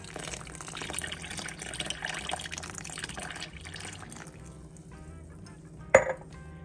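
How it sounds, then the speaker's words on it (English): Two cups of warm milk pour into a bowl of bread dough ingredients with melted butter, a soft, steady liquid trickle close by in a quiet kitchen, ending with a brief clink near the end. "And 2 cups of warm milk."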